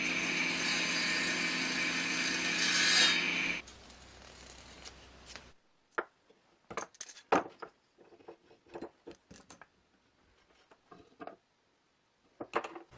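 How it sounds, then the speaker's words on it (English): A table saw cuts small wood pieces for a plasma cutting pantograph bracket. The blade roars steadily for a few seconds, then winds down. Scattered clunks and clatter of wood pieces being handled follow. "I'm going to cut these down a little bit on the table saw here"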